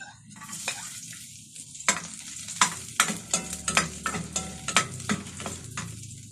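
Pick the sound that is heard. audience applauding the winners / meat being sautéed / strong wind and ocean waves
meat being sautéed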